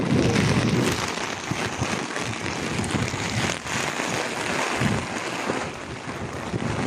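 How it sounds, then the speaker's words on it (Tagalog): Heavy rain pours steadily near a bridge, a dense continuous roar mixed with gusting wind buffeting the microphone, loud and without talk. "talagang napakalakas na ng ulan"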